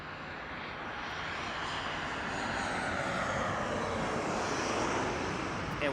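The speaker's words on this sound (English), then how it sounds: "Southwest about to land on the runway" A Southwest airliner landing at Las Vegas's Harry Reid International Airport gives off a broad engine roar that swells steadily louder as it nears, heard outdoors at a distance with no talking.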